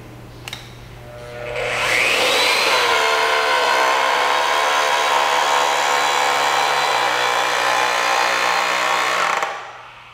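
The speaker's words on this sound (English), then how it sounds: "Press the trigger switch and hold until the pipe is bent to the desired angle." AGP DB32 digital pipe bending machine bending a pipe: a steady, loud electric motor whine with a rising tonal sweep holds for about seven seconds, then cuts off sharply as the bend is reached.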